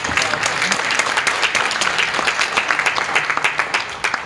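An audience at a security officers' division meeting applauding, fairly loud, dense clapping with some individually distinct claps, sustained throughout.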